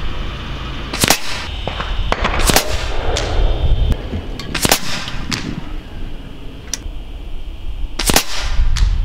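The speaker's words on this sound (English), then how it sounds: "I want to take you to the range so that you can actually see us shooting these 100-yard groups, 5-shot groups with the AVS slugs" Vulcan 3 airgun firing AVS slugs at a 100-yard outdoor range, several sharp, loud cracks at irregular intervals over a low background rumble.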